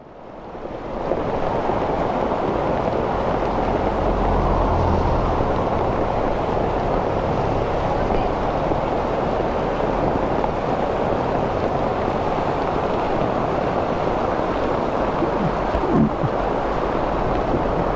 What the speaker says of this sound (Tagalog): Biglang buhos ang ulan dito sa may Mahayhay.